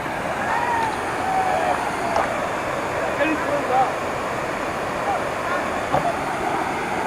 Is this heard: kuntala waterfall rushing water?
yes